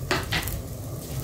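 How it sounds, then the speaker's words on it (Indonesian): Dried anchovies boil in a pot of water, a brief sizzling, bubbling hiss with two quick splashy bursts near the start, close and short. "kita rebus dulu terinya di air mendidih"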